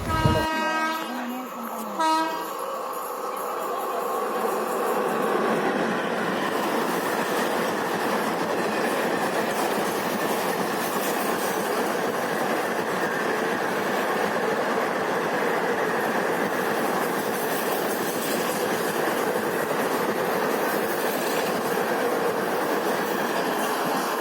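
A MEMU passenger train runs steadily and loudly throughout, departing Bolireddipalem station between Nellore and Sullurpeta, with continuous rumbling wheel and carriage noise; a short horn-like tone sounds at the start.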